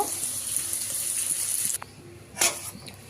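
Boiled flat beans (sim) poured out with their cooking water, a steady gushing pour with hissy splashing that stops abruptly midway, followed by a short second splash.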